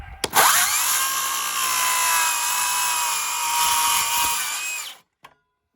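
A power saw cuts through a wooden deck board outdoors: one loud, steady whining cut of about five seconds that starts abruptly and stops sharply, followed by a brief faint knock.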